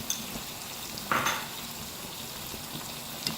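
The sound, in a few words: masala with dried coriander stirred in a pan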